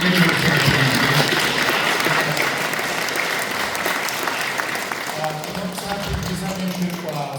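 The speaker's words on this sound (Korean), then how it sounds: "박수 한번 드리겠습니다." Audience applause fills a church hall at a commemorative worship service, steady broad clapping held for several seconds at even loudness with a faint voice underneath.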